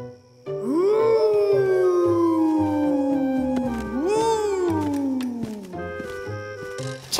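Cartoon cat giving two long, drawn-out wailing meows that rise and then slowly fall, loud and close over soft stepped background music, with a brief pause between the calls.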